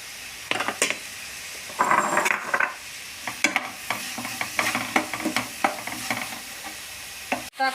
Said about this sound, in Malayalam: സവോള വഴറ്റി ഒന്ന് പാകമായി വരുമ്പോൾ ആവശ്യത്തിന് ഉപ്പും ചേർത്ത് തക്കാളി ഇടുക